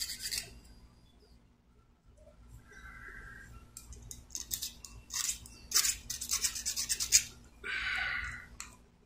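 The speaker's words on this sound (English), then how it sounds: "I think I'm going to go through and try and file those down a little bit so they don't stick out" A metal file rasps at burrs on a vintage Campagnolo road bike part, giving short, irregular close-up scraping strokes that grow busier toward the end, quiet overall with no speech.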